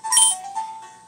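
A phone ringtone chimes briefly, a bright electronic tone close by, with no talk over it.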